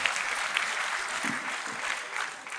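A seated audience at an event applauds together, a dense, steady patter of clapping heard from nearby across the whole span, with faint voices mixed underneath.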